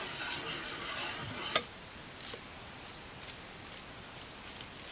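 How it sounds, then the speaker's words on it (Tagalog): Egg custard mixture stirred gently in a bowl, a soft continuous swishing and scraping for the first second and a half, then a sharp clink and quieter faint scrapes, close and alone. "Huwag nating masyadong haluin ito kasi mabibreak yung egg whites."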